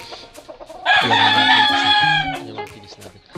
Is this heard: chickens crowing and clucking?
yes